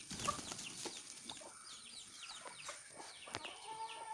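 A backyard flock of native Kerala hens, four black Kadaknath and a rooster among them, clucking softly and repeatedly in a busy, faint chatter from several birds at once, with no voices.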